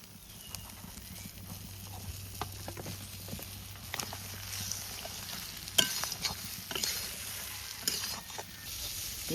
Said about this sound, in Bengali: তিন 4 মিনিট মাংস কষানো হয়ে গেছে।